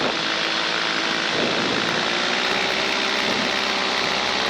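A small propeller airplane's engine drones steadily and loudly from the cockpit during engine-out practice low over a runway, a constant roar with slight shifts in pitch and no talk.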